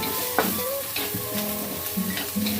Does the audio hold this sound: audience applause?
no